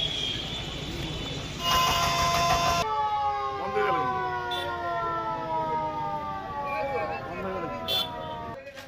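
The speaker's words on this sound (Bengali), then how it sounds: "হঠাৎ করে সাইরেন বাজলো।" A bank's security alarm siren blares on a holiday, its steady and falling tones wailing loudly and continuously for the whole stretch, with background noise beneath.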